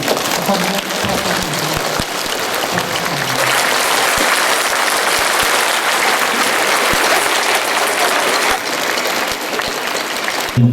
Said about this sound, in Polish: Chciałbym bardzo, żebyście na stojąco bili brawo wszystkim nauczycielom, również tym emerytowanym.